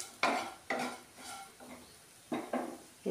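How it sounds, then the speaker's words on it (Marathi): Spoon stirring karela (bitter gourd) fry with turmeric and salt in a metal pan, several distinct scraping clatters in an irregular rhythm, close and fairly quiet, with faint sizzling between strokes. "आणि याला व्यवस्थित फिरून घेऊया"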